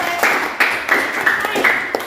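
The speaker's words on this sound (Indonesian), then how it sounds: "kita kasih tepuk tangan" A classroom gives a student a round of clapping: a steady, rhythmic series of sharp claps at an even pace, close and fairly loud, with some voices mixed in.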